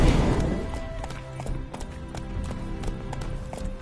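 Roach, a horse in The Witcher 3, gallops with a quick, steady clip-clop of hooves close by, starting loud and holding an even running rhythm, with game music faintly underneath.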